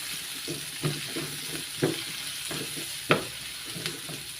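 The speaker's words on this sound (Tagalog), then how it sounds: "Una, gisahin natin yung ating mga aromatics. Unahin natin ang sibuyas." Onions sauté in a pan for squid adobo, a soft continuous sizzle broken by several distinct stirring scrapes and clacks at irregular intervals, close and fairly quiet with no talking.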